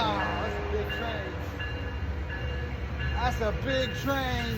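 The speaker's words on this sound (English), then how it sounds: "Wow, that's a big train." A Metrolink train passes in San Bernardino, a steady low rumble of rolling cars with a few squealing wheel or horn-like tones, while someone talks nearby.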